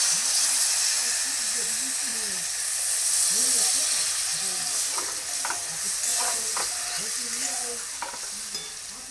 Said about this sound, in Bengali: কষানো হয়ে গেছে, মাংসটা জল দিয়ে দেবো